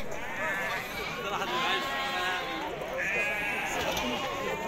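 Sheep bleat at a Tuesday livestock market in Azrou, several drawn-out calls rising over a busy, murmuring crowd while people talk close by.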